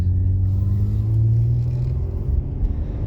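Ford Explorer driving after a brake caliper repair, a low, steady engine rumble close by with a slight swell in the middle and no voices.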